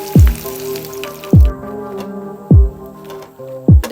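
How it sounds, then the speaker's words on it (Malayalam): Chicken pieces fry in hot oil for homemade broasted chicken, giving a steady sizzle alone. Four loud, sharp knocks land about every 1.2 seconds over the frying, with no talk. "ഇതുപോലെ ബാക്കിയുള്ള ചിക്കനും കൂടി ഒന്ന് ഫ്രൈ ചെയ്തെടുക്കാം."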